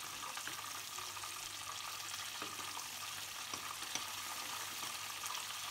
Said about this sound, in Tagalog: Lutuin naman natin ang ating beef. Lagyan ng butter, konting margarin,